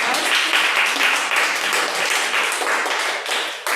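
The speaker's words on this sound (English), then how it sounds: "yes, you can applaud." Audience applause at a Toastmasters-style club meeting, steady dense clapping from a room of people filling the whole moment at close range without any talk.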